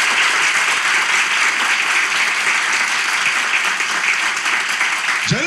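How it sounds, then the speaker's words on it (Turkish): A theatre audience in Kadıköy claps continuously and loudly to welcome the guests, a dense unbroken wash of applause with no talking over it. "İlişki testi Kadıköy Duru Tiyatro'da Can ve Habibe ile alkışlarla başlıyor"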